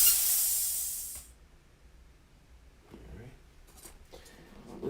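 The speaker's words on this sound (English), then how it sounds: "Sorry about the compressor." Air compressor in a graphics workshop hissing loudly as it refills its tank, the steady rush fading after about a second, followed by quieter shop noise and brief clatter.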